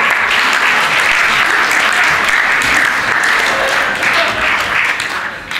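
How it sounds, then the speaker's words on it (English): Audience at a sixth-form school spoof debate claps for the proposition team, a dense, loud, steady wash of applause that runs the whole time and eases off slightly near the end. "Also have a very slow hand clap, please, for the proposition"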